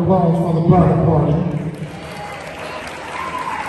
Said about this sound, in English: Gentlemen, round of applause for the bridal party.